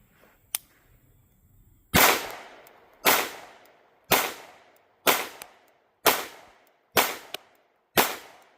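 Rifle shots from a Q Sugar Weasel 556 fired at a target about 11 yards away, seven loud sharp reports at roughly one-second intervals, each with a short decaying echo, after a faint earlier pop.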